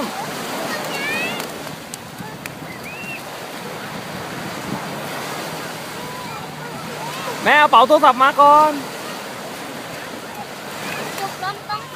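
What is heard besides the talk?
sea waves splashing at the beach at Cha-am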